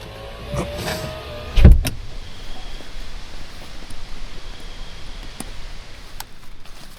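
A pickup truck's power window runs with a brief motor whir and a sharp thump as it stops, then quiet vehicle-interior ambience with faint rustling follows.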